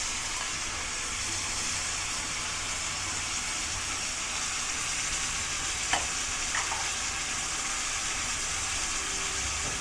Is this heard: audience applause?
no